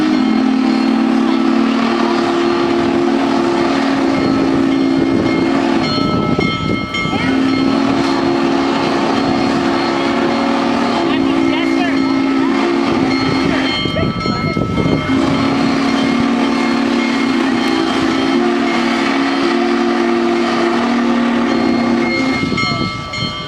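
Loud steam locomotive whistle blowing in three long blasts with short pauses, a bell ringing underneath, close and sustained, at Ogden Union Station.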